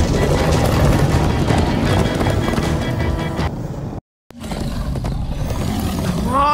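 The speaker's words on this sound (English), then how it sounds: "Come on, horses!" Horses gallop in Minecraft: Story Mode, a fast clip-clop of hooves under a loud game soundtrack and rushing effects, cut by a brief silent break before the action resumes.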